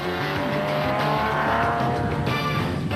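Henry Zermatten's Ryobi Nissan rally car at the Nissan Dealer 400 in 2007, its engine roaring loud and steady up close with gravelly tire noise throughout.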